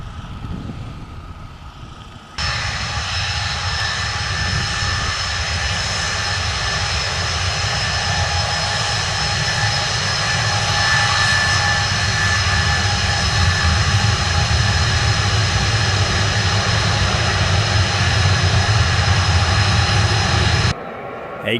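Cold War-era jet aircraft engines run up on the runway at Bruntingthorpe, a steady loud roar with a high whine that holds for about eighteen seconds before cutting off sharply.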